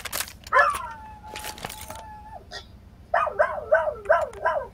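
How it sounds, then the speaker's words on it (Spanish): A dog frightened by fireworks barks in a rapid burst of yelps near the end, preceded by a few earlier whines and yips, fairly close and moderately loud. "Está tu perro con los cohetes, ¿no? Está ladrando"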